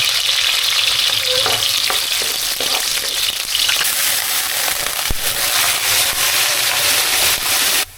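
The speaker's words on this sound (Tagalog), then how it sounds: "Nung mainit na yung mantika, gisahin na natin ang sibuyas. Sunod natin ang bawang." Onion, then garlic, hit hot cooking oil for pork adobo, giving a loud, continuous close-up sizzle with stirring and scraping rattles across the whole stretch.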